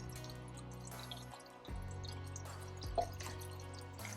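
Water is poured onto a rare El Chaco house plant in a home collection, a soft steady trickle and dripping that runs under background music with no talk.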